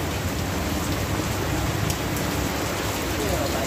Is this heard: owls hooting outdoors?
no